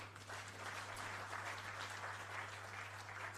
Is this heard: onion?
no